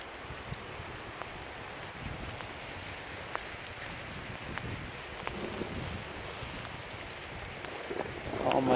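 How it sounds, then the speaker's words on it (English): Rain falls steadily in an outdoor mango orchard during a windstorm, a dense even hiss with scattered drops, moderately loud and continuous, growing slightly stronger near the end. "There's rain finally."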